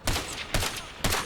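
Three sharp, loud gunshots in the video game Ghost Recon Advanced Warfighter 2, spaced about half a second apart, each ringing out briefly, with no voices.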